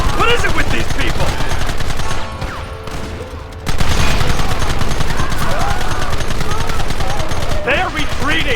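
Dense gunfire from a Red Dead Redemption firefight, rapid overlapping shots and bursts filling the clip with a brief lull midway, loud and close, with shouted voices mixed in.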